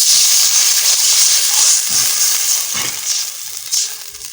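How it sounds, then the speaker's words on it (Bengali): Water hits a hot pan of oil with green chillies, onion and garlic, setting off a loud, close hissing sizzle that gradually dies down over a few seconds. "এবারে জল দিয়ে দিচ্ছি।"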